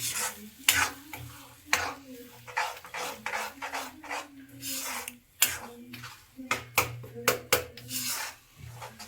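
Spiced chicken masala with turmeric, salt, chili and garam masala stirred in a pan, uneven bursts of scraping and clattering against the pan over a low sizzle, with a voice heard faintly in places.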